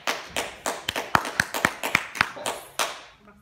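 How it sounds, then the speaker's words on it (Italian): A small audience gives brief applause after an opinion guest is introduced on an Italian show, about a dozen separate, fairly sparse claps spread over a few seconds, close and moderately loud, fading out at the end. "Un applauso"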